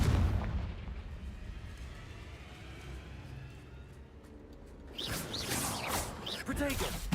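Fire spell explosions from Confringo cast in Hogwarts Legacy, a rumbling blast with game ambience for several seconds, then a brighter, crackling burst of impacts toward the end, with a voice talking over parts.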